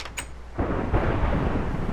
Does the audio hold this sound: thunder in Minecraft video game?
yes